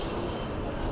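A Dassault Falcon tri-jet passes at night near DFW Airport, a steady broadband jet roar that holds level for under a second with no talk over it.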